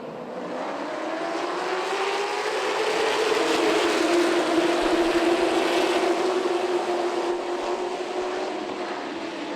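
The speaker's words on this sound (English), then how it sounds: "Flagman Dowie Cox is set to throw the green flag." Race car engines roar together at Myrtle Beach Speedway as the green flag drops for the start, a loud, continuous, rising drone of many cars swelling and holding steady with no voices over it.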